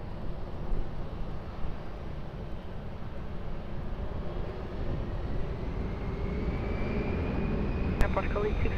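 Airplane taking off from runway 20 at Lisbon Airport, a broad, steady engine roar that slowly swells, heard at a distance while air traffic radio chatter plays over it.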